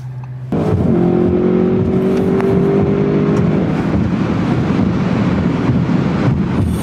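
A 2022 Audi RS6 wagon with a twin-turbo V8, air suspension and added boost, accelerating hard with a loud, steady engine roar and rising tone, mixed with heavy wind rush throughout.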